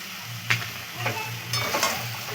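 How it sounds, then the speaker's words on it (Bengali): Salted, turmeric-rubbed chicken pieces go into a frying pan with potatoes, a soft steady sizzle broken by a few clattering stirs and scrapes of a spatula against the pan. "আমি ধুয়ে নিয়েছিলাম চিকেন লবণ আর হলুদ মাখিয়ে নিয়েছি দিয়ে দেবো চিকেন"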